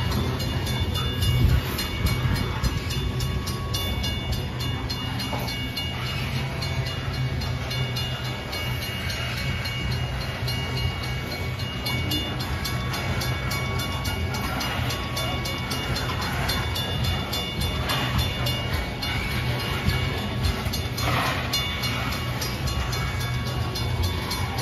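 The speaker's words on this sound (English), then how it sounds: "here comes in the train, guys." A loaded BNSF coal freight train rolls past, a continuous loud rumble and clatter of wagons with steady rhythmic clacking from start to finish, no talk.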